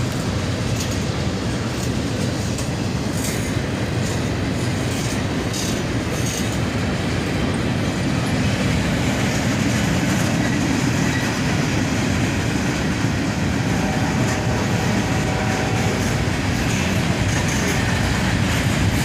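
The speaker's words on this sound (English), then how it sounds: "Three locomotives on this manifest train. An ES-44AH leads, followed by a pair of ES-40DCs." Steady, close rumble of a manifest freight train behind an ES-44AH and two ES-40DC locomotives as its mixed cars roll by, with rail clatter and occasional faint wheel squeal throughout.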